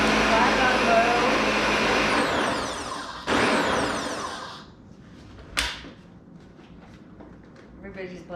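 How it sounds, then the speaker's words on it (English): A blender whirs loudly as it mixes homemade pesto with Parmesan, then the motor cuts off, followed by a brief clatter and quiet, with speech heard around it. "Everybody's blender is a little different."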